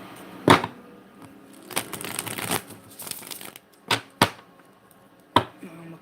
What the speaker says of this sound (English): Now I'm going to cut the deck